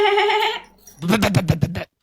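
A person imitates a goat with a drawn-out nasal bleat, followed by a quick, trembling series of bleating syllables, close to the mic.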